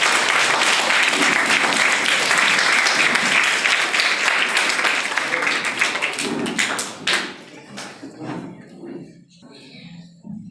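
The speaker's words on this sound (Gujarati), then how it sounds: "આપણે સૌ તાળીઓથી વધાવીશું" An audience at a school's annual function applauds loudly and steadily as medals are presented. The dense clapping lasts several seconds, then thins out into scattered claps and fades.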